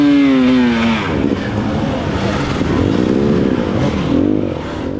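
Dirt bikes climbing the course at the Battle of the Prospectors race, engines revving and whining loudly nearby, several machines overlapping with rising and falling pitch and continuous roar.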